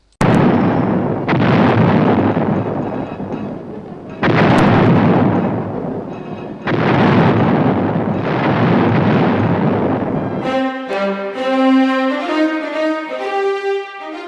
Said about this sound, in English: The 155 howitzer is a self-propelled, completely armor-enclosed vehicle that throws a 95-pound projectile